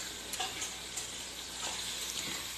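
Liver stir-frying in a hot pan, a steady close sizzle with brief scraping stirs and light clicks of a utensil against the pan, no voices.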